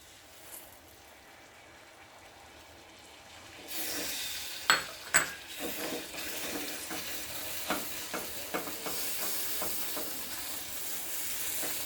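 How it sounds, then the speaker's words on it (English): Salted caramel sauce made with butter and cream bubbles and sizzles on the stove, rising to a steady hiss partway through while a utensil stirs, clicking now and then against the pan. "Just keep stirring, keep mixing."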